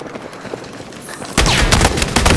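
Shotgun blasts in the Battlefield 6 video game, Escalation mode on the Contaminated map: a sudden loud burst of booming gunfire erupts after a stretch of quieter game ambience, with several heavy shots in quick succession.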